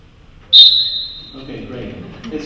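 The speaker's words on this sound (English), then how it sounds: "Does somebody play one of your police whistles for me?" A police whistle gives one sharp, piercing shrill blast in a symphony rehearsal setting, then fades into soft room murmur and low voices.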